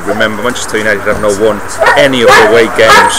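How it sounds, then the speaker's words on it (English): A dog barks, yips and whimpers repeatedly nearby while someone talks over it. "That's a dog. That's making a lot of noise at the moment."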